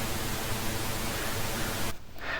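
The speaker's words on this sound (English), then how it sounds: "And also we have pink noise." Steady broadband hiss of synthesized pink noise, full and even, with a deeper tone than white noise, cutting off abruptly near the end.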